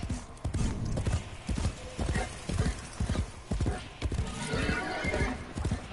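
Horse hooves clip-clopping in the Warframe video game, a steady run of close, loud hoof beats with occasional whinnies and snorts, under a low game ambience.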